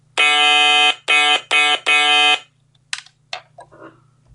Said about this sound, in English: now I'll do sound 2. Same note on the Stylophone.